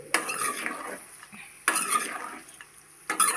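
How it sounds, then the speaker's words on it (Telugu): A spoon stirs bitter gourd with seasoning seeds in oil in a pan, three distinct scraping bursts about every one and a half seconds, with a faint sizzle between them, close and alone. "పోపు గింజలు, కాకరకాయలు బాగా మిక్స్ అయ్యేటట్టుగా బాగా కలుపుకున్నాను"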